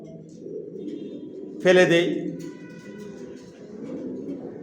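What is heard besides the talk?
pigeons cooing in a bedding loft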